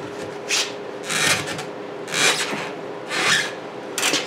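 A UTV tire is forced over the rim on a Harbor Freight manual tire changer, with close, rasping rubber-stretching squeaks that come in about four separate strained bursts over a faint hum.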